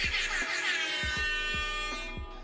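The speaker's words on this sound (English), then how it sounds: "the second result is definitely an air horn" A blaring air horn holds a long, loud tone with a repeating low thump pulsing underneath, then tapers off.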